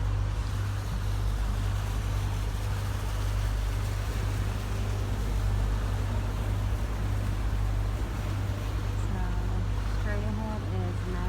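A boat ride at Disney's Fort Wilderness, with a steady low engine hum and water rumble throughout and faint voices in the background.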